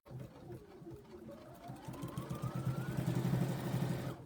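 A sewing machine runs fast and close while stitching the last seam of a fabric bowl cozy, its rhythmic whirring motor and needle clatter building in speed and loudness throughout.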